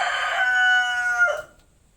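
A single loud, close rooster crow, a drawn-out cock-a-doodle-doo that cuts off into near silence.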